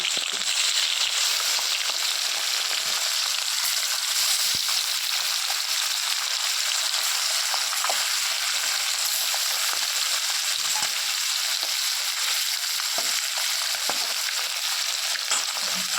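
Small puti fish frying in hot oil in a kadai give a steady, loud, dense sizzle that runs unbroken throughout, with occasional stirring scrapes and no talk.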